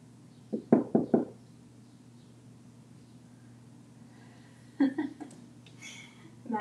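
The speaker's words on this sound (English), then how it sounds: "That just knocked on the window." A knuckle raps on a window in two short clusters of three or four quick knocks, separated by a few seconds of quiet room hum, with a faint voice trailing at the end.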